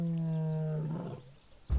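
Lions on safari in Mashatu, Botswana, near the Majali River, give a deep, sustained roar with a strong low harmonic tone that fades into breathy grunts. A brief thump follows at the end.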